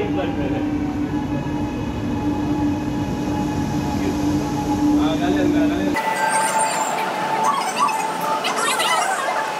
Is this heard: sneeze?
no